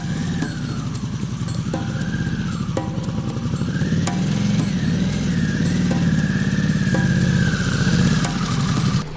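A motorcycle engine runs close by for several seconds, a loud steady rumble with the revs rising and falling in slow waves.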